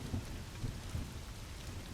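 A severe storm drives heavy rain over railroad tracks and a bridge. The steady rain wash is broken by a few dull low thumps of thunder.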